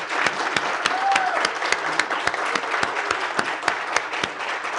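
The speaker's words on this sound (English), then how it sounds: "Would you please give them a round of applause?" Steady, full applause from a large crowd at a leadership academy closing ceremony, dense clapping that holds at an even level throughout without letting up.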